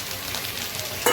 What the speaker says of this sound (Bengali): পেঁয়াজটা ভেজে নিলে ভালো হয়।